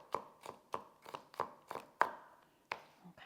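Butterfork knife chopping onions on a board, a series of crisp, close knocks spaced about a third of a second apart with brief gaps, each strike distinct and alone.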